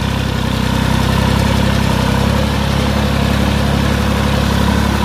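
A Massey Ferguson 9500 Smart 4WD tractor's turbocharged diesel engine idles loudly and close by, a steady low throbbing rumble with no voices over it.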